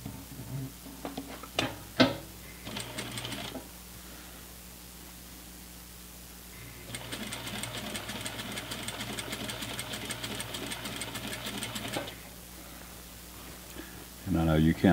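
An industrial sewing machine without a free arm runs a steady hem along the inside leg of a pair of pants for several seconds, preceded by clicks and handling noises, with a person speaking quietly nearby.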